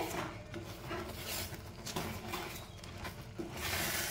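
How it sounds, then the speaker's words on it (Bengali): A spoon stirs khoa with ghee and cardamom powder in a pan over a low flame, giving a soft, steady scraping and rubbing that runs quietly for a few seconds without any talk. "এবার নেড়ে নেড়ে আমি খুব ভালো করে শুকিয়ে নেব"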